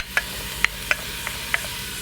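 Chopped butternut squash and sweet potato sweating in a pan, a soft steady sizzle with several sharp clinks of a utensil stirring against the pan.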